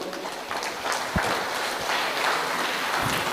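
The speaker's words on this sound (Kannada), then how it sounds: "ಒಮ್ಮೆ ಜೋರಾದ ಕೈ ಚಪ್ಪಾಳೆ." Loud, continuous clapping from the crowd at a community trust's tenth-anniversary celebration, a dense steady roar of hands that carries through the whole stretch without letting up.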